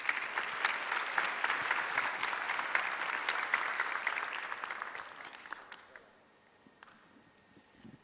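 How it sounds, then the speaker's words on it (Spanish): Applause from a conference audience welcoming a speaker, dense sustained clapping for about five seconds that thins and fades out, leaving a quiet room with a few scattered claps. "Un fuerte aplauso, por favor, para la señora Ana Aguilera"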